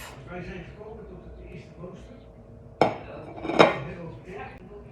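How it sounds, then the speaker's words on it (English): Butter chicken dinner being dished up onto plates: two sharp clinks of serving utensils against dishes stand out over soft kitchen handling while a person speaks. "It's time to dish up."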